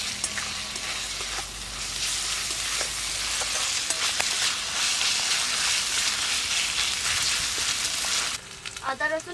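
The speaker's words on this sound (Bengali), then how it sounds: "আদা রসুন পেঁয়াজ ভালো করে ভেজে নিয়েছি" Ginger, garlic and onion frying in a pan for a mushroom dish give off a loud, steady sizzle with occasional stirring clicks, dropping off near the end into lighter scraping.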